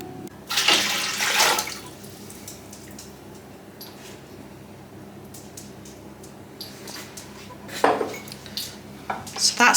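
Glass jars sterilised for marmalade clink and knock as they are handled, with bursts of clattering near the start and end, faint running water and handling noise between.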